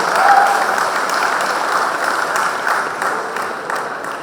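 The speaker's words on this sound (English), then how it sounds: "Let's all give her a big round of applause and wish her all the very best of luck." A large audience gives a sustained round of applause, dense even clapping for several seconds at a steady level.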